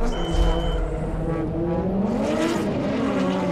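Formula G race cars launching side by side, engines roaring loud and close with rising revs and a brief tire squeal at the start, sustained throughout without talking.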